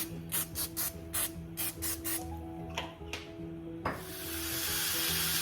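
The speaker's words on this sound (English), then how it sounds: "I'm gonna spray it very generously. And I'm using grilling oil spray." Several short bursts of grilling oil spray hiss in quick succession onto a stovetop grill, then a steady louder hiss builds near the end, over a low hum.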